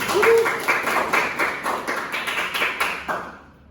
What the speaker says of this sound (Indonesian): Boleh tepuk tangan buat kelompoknya IKEW.